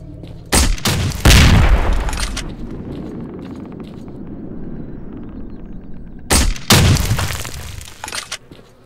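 Two loud, close explosive blasts of grenade and gunfire, one early and one late, each bursting hard and rumbling out over a couple of seconds, with a quieter stretch of low rumble between them.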